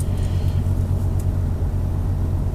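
Supercharged Mercedes-Benz E55 AMG W210 with a Kleemann 55-K2 kit driving with a misfire, a steady loud low-pitched engine drone and rumble filling the cabin with no voices.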